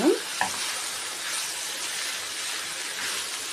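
Ingredients stirred in hot oil in a pan for a cluster bean curry, a steady close sizzle and hiss after a brief scrape of the spoon, continuous and fairly loud with no talk.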